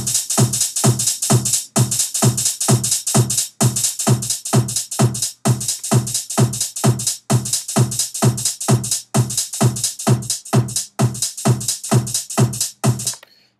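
Hi-hat loop played through Logic's EXS24 sampler with 16E swing quantization, giving a bouncy shuffled feel; rapid, loud, closely spaced hits repeat steadily for over ten seconds with short breaks every couple of seconds, no voices.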